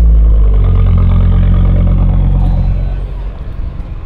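An Audi RS3 8Y with active exhaust valve control idles loud and close, a deep steady rumble that eases slightly as a gear is engaged, with no voices over it.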